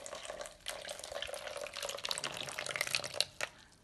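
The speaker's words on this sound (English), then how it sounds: "So I'm going to pour a little bit of water in the bottom." Water trickles and splashes into a tray of chilli seed pellets, a faint close pouring with small drips that rises and falls for a few seconds.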